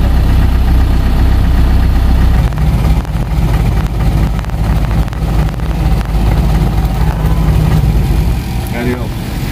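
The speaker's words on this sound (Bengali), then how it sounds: "গাড়ি কিন্তু স্টার্ট আছে, সাউন্ড পাওয়া যাচ্ছে সম্ভবত। আমি আরেকটা অ্যাক্সিলেটর করতেছি।" A cover van engine runs close by, a loud low rumble that lifts as it is revved and then settles back, with someone talking over it.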